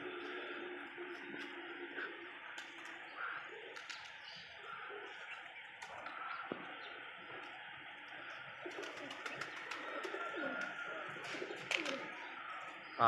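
Pigeons cooing softly on the first day of the season with twenty-five released, low murmuring coos and occasional wing flutters at a distance under a steady background hiss, faint overall.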